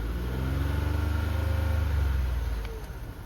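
A car engine rises in a steady low rev as the throttle is pressed, holding a smooth drone for a few seconds before easing back down, heard close and alone.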